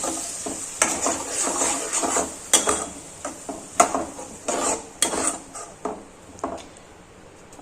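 A spoon stirs spice paste into potato chips sabji in a metal pan, with repeated scraping clinks in an uneven rhythm over a soft sizzle, close and fairly loud.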